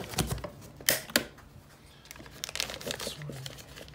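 Plastic packaging on an E-Track motorcycle trailer chock adapter crinkles and rustles in close, uneven bursts, with a few sharp crackles and snaps.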